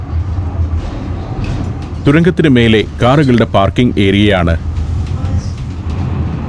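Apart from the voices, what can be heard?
funicular tram running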